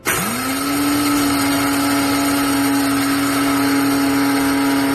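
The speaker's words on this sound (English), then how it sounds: "It's just this one button here that you press to operate it, and let's hear it run." A Cuisinart DCG-12BC blade coffee grinder spins up in an instant to a steady, loud motor whine with a high whirring hum, running without pause for several seconds with no talking.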